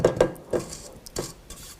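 Spatula scraping around a mixing bowl of light, fluffy vanilla cake batter, a few short close scrapes and knocks in quick succession with quiet pauses between.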